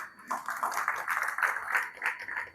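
Audience applause at an annual talent awards dinner, a steady burst of clapping from many hands lasting a couple of seconds, moderately loud and close, with no talk over it.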